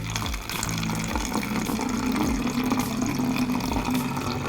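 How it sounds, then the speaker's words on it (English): Vinegar pours in a steady gurgling stream into a water bottle, rising in pitch slightly as it fills, close by. "And we're gonna fill up the water bottle with a 1/4 cup of vinegar."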